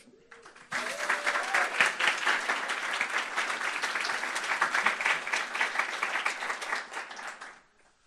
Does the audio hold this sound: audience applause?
yes